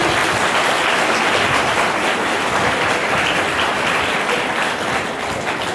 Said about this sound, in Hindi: फिर आप हमारी प्रधान अध्यापक जी और हमारी टीचर्स के लिए ताली बजाइए।